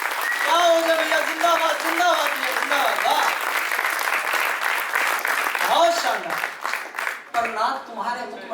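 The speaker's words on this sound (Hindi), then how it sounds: "शानदार, जोरदार तालियां, क्या बात है।" An audience at a Hindi poetry recitation (kavi sammelan) breaks into sustained applause, dense clapping lasting several seconds while a speaker's voice carries over it, then thinning out toward the end.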